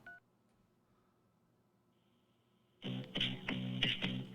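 A short electronic beep, then quiet, followed by a burst of rapid telephone keypad tones and busy dial-tone chatter from a phone line menu, fairly loud.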